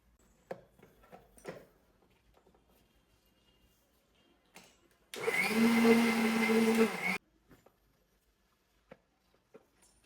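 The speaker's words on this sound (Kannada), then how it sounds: "ಇವಾಗೈತ ಇದನ್ನು ಮಿಕ್ಸರ್ ಗ್ರೈಂಡರ್ಗೆ ಹಾಕುವ ಸಮಯ" A mixer grinder whirs loudly for about two seconds as it blends caramel cake puree with milk, a steady motor drone that starts and stops abruptly between soft kitchen clatters and near silence.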